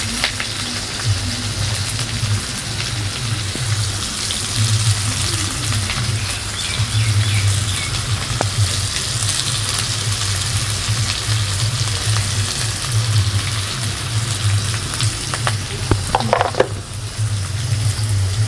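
Dried red chillies and curry leaves frying in oil for a beetroot poriyal, a steady close crackling sizzle with light stirring and faint birdsong in the background.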